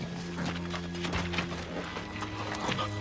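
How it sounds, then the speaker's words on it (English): A horse's hooves clip-clop at a walk in a Western film scene, irregular hollow knocks under a low musical drone. "That's Jethro's horse."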